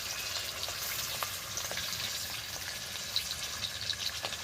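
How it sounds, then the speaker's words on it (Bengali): Chicken pieces frying in a pan for chicken pulao, with a steady close sizzle and scattered small crackles and pops throughout, no voices. "এই যে চিকেনগুলো আমি কেটে রেখেছিলাম দেখুন দিয়ে দিচ্ছি"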